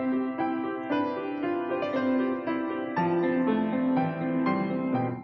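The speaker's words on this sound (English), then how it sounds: "If we did not have dampers on the piano and I played something, it would sound like this." Piano played with the dampers lifted, so every struck string keeps ringing and the notes blur into a dense, sustained wash of overlapping tones, steady and fairly loud throughout with no voices.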